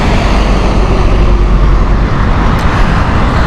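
A Boeing 777 airliner from Singapore at Heathrow Airport, a heavy, continuous jet roar with deep low rumble, steady and loud throughout, no speech.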